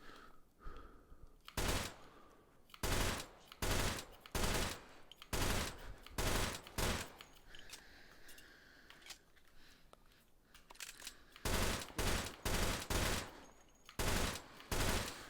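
A 3-round burst rifle fires in the video game Hot Dogs Horseshoes & Hand Grenades, with repeated short, sharp volleys at a low, distant level and quiet pauses between them.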